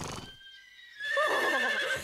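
A cartoon horse gives a single high, wavering whinny that rises out of a brief quiet, loud and close, with a little background noise before it.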